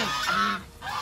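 Single loud nasal honk from a male breeder goose (gander), close by, lasting about half a second with a shorter follow-up call.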